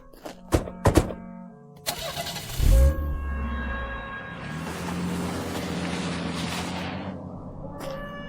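A car engine cranks and turns over after a few sharp knocks and a door-like thump, then settles into a steady idling rumble that carries on to the end.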